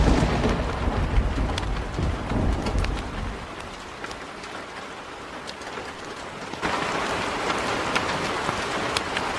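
Heavy rain pours down steadily with deep rumbles of thunder rolling early on, loud and close throughout, with a faint bird call now and then.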